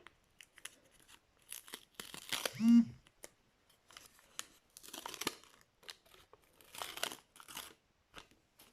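Crinkly tearing and rustling of a paper packet being opened, with scattered crackles before and after and short pauses between bursts.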